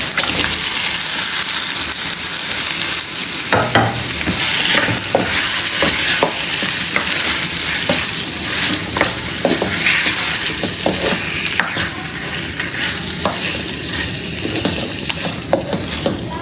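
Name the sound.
chicken frying with sautéed onions in pan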